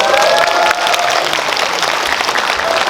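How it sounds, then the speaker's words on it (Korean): A live audience at a Korean film talk event for the movie Negotiation applauds steadily, a dense, continuous wash of many hands clapping at full volume throughout. "박수 한번 보내주십시오."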